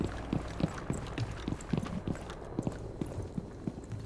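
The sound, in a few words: footsteps running in Rainbow Six Siege video game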